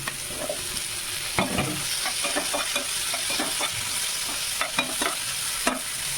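Onion and tomato fry in a pan with a steady sizzle, broken by sharp clacks and scrapes of stirring scattered irregularly throughout, close and without talking.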